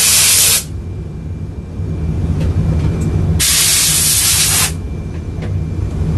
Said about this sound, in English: Right now he's gonna be doing steam.